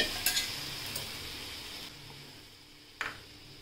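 Radish dal tipped into a hot pan, a soft steady sizzle with a few scraping stirs of a spoon against metal, close and fairly quiet, with a sharper clink near the end.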